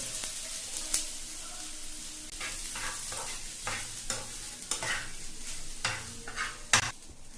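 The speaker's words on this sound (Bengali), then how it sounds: "আর এখন এই ওটসটাকেও এর মধ্যে ঢেলে দেবো।" Oats tipped into a frying pan over curry leaves, chopped capsicum, tomato and green chillies, giving a soft scraping sizzle with repeated short stirring scrapes and bursts through the clip, fairly close and without talk.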